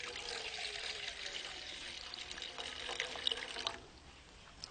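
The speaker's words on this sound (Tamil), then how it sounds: "1 டம்ளர் தண்ணி ஊற்றிக்கிறோம்." A tumbler of water is poured into a vessel for a herbal decoction, a soft, steady trickling splash lasting a few seconds before it abruptly stops, with no talking over it.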